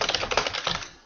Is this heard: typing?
yes